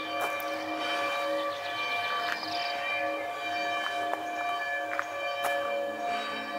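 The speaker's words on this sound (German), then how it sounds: "Gerade um 6 läuten die Glocken." Church bells ring at six o'clock for evening mass in a village on a summer bicycle tour, a continuous resonant peal with overlapping strikes, fairly loud and steady throughout.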